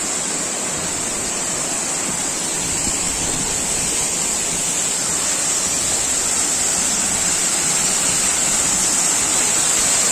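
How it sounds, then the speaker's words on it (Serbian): The Ilomski waterfall, about seven or eight metres high and cut into rock amid forest, roars as a loud, steady broadband rush of falling water heard up close, with no voices. "To je taj vodopad."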